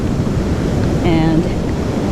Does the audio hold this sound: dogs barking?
no